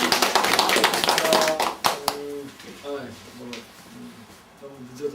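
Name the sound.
applause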